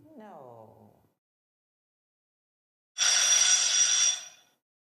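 A quiz contestant's buzzer bell at a school quiz competition rings as one bright, sustained metallic tone of about a second and a half, loud and alone, after a brief vocal sound and a stretch of silence.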